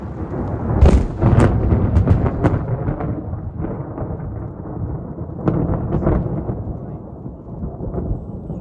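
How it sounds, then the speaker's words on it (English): Thunder from a lightning strike during a massive thunderstorm over a campground in Oregon, a loud close crack that rolls into a long rumble, with further thudding peals later. "This is the lightning bolt and the thunder that scared us all so much."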